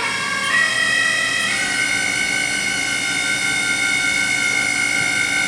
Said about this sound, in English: Go faster with the spindle.